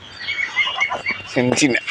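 Muscovy ducks on a farm give a short run of low, raspy calls that grow louder toward the end, with a person talking nearby.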